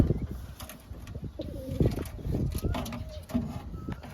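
A pigeon coos softly several times at close range in a pigeon setup, mixed with faint chirps, mechanical clicks and rustling, while a person talks over it.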